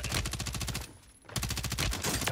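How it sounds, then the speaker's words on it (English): Rapid automatic gunfire in the video game Warzone 3, two loud sustained bursts of fast evenly spaced shots separated by a brief pause. "My gun ain't stopped shooting yet."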